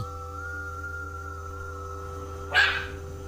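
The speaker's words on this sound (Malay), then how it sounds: "kenapa ini anjing bising?" A single short dog bark bursts out near the end, loud against a steady background hum.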